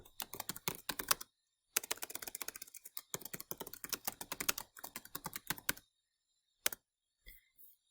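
Fingers typing on a computer keyboard while entering a spreadsheet, quick bursts of close, crisp keystrokes broken by short pauses, with a few isolated taps at the end.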